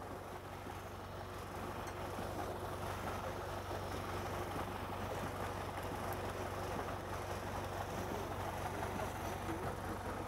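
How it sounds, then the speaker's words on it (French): A powerful tractor pulling an Actisol tool that works the soil fairly deep: a steady, low engine drone with a rumbling mechanical undertone, moderately distant and even throughout, with no speech. "comme on a un tracteur qui est puissant, on va en profiter pour le faire travailler un peu creux"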